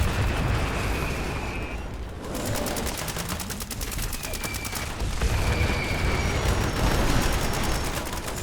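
Explosive heavy-weapon fire in Fallout 76 from a Nuka Launcher and Overkill-style explosive guns, a dense, sustained barrage of blasts and rapid rattling bursts that keeps a loud, roaring wash going the whole time.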